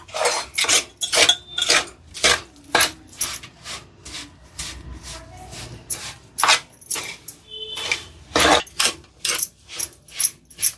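Laddu mixture being stirred with jaggery in a pan, a spoon scraping and rasping against the metal in a steady rhythm of repeated strokes, close and clear.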